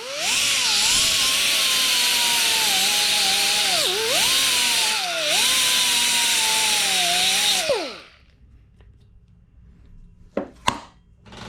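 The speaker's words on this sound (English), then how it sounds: "I've grinded down both these nubs here because they're actually both touching" Grinding metal nubs off a Vespa smallframe brake plate with a power tool: a loud, continuous whine that dips in pitch as it bites, runs for about eight seconds, then stops, followed by a few faint clanks.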